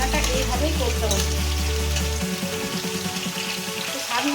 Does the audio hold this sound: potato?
yes